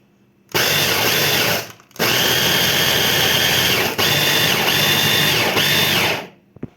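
A food processor grinds dessert ingredients into powder, its loud motor whirring in three sustained runs broken by brief stops, close and steady throughout.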